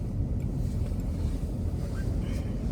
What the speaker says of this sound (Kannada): ಚೆನ್ನಾಗಿ ಗಾಳಿ, ಸ್ನೋ ಎಲ್ಲ ಬಿಡುತ್ತೆ.